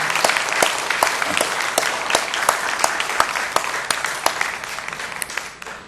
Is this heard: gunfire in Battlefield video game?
no